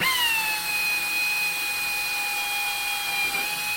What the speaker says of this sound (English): so we're on the good old pneumatic drill